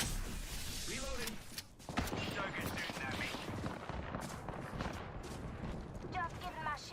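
Video game gunfire in a shooter with shields and reloading, rapid bursts of shots and mechanical clatter that run almost constantly, loud and dense, with a voice talking over parts of it.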